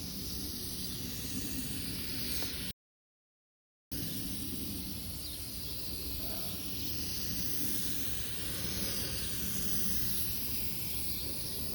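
A steady, close hiss of spray runs almost without a break as a second coat goes onto the original headlight of a 17-year-old Pontiac G6 during restoration, with one short gap in the middle.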